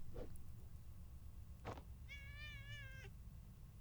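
A cat meows in the video game Impostor Factory, one clear, drawn-out wavering meow preceded by a couple of short soft sounds, heard alone over a low background hum.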